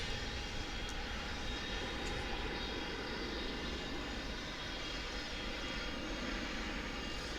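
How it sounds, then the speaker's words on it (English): A jet airliner departs DFW airport, its engines giving a loud, continuous roar that holds steady throughout with no voices. "So at 6:13, this jet is off to Denver."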